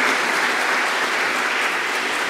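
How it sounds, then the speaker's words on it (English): An audience at a celebration of Irish traditional music gives a warm round of applause for musician Karen, a full, steady wall of clapping that stays loud and even from start to finish. "So please give Karen a very warm round of applause"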